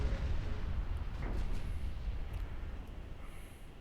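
Battleship guns fire in the naval video game Ultimate Admiral Dreadnoughts, heard as a deep, rumbling boom that rolls on and slowly decays over a few seconds.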